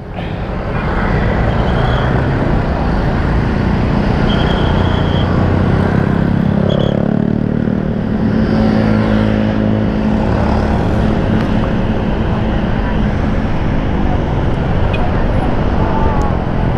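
An electric motorcycle rides at speed along a road, giving a steady, continuous roar of wind and tyres with a faint motor whine throughout, while a rider's voice breaks in now and then.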